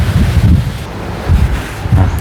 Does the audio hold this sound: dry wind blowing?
yes